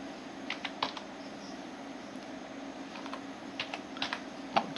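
Irregular keystrokes on a computer keyboard tap out a short code, soft clicks in small bursts over a quiet room hum, with a few sharper presses near the end.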